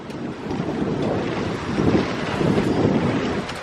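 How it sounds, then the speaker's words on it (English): Steady wind roaring over a sailboat beating close hauled in 12 to 14 knots, with a slight chop slapping the hull; a continuous broadband rush that swells slightly in the second half, no voices. "Perfect 12 to 14 knot wind, a slight bump on the water"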